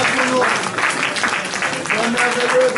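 Church congregation applauding at a Sunday service, a dense sustained clapping crowd with voices mixed in throughout.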